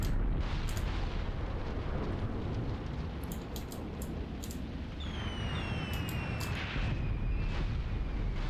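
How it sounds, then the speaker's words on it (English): Artillery shells burst in a Graviteam Tactics battle, distant heavy booms rolling under a dense, steady roar of wind and rumble, with a few whistling streaks overhead. "as if there was artillery coming in behind me"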